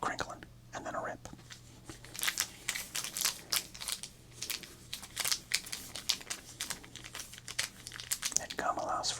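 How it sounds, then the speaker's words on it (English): Close, crisp crinkling of a 1988 Topps football card pack's wrapper, followed by sharp ripping bursts as the foil pack is torn open, rhythmic and continuous with quiet whispering at the start and end. "let's do a little crinkling and then a rip"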